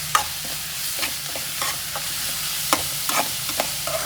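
Food frying in a pan is stirred, with scraping strokes coming at an irregular rhythm every half second or so over a steady low sizzle, close and moderately loud, with no talking.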